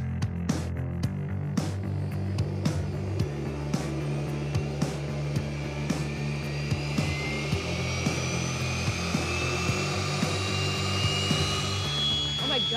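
A loud, steady engine roar with a rising high-pitched whine, continuous and close, punctuated by repeated sharp clicks.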